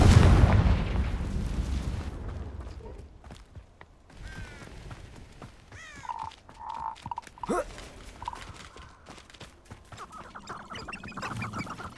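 A Confringo explosive spell goes off in the video game Hogwarts Legacy: a loud, booming blast opens the clip and fades into a rumbling tail, followed by scattered quieter game effects and creature-like calls.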